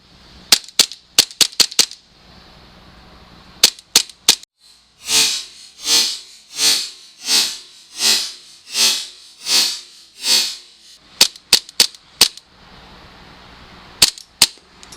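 A KJWorks KP-09 CZ 75 blowback airsoft pistol fires in quick runs of sharp, loud cracks: a fast string of shots, a steady volley of about nine evenly paced shots with blowback clatter, then further bursts of rapid cracks.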